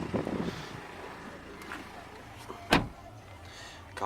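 Electric window of a BMW X1 xDrive18d moving, a faint, steady motor hum running under the car's interior ambience, with a brief thump partway through.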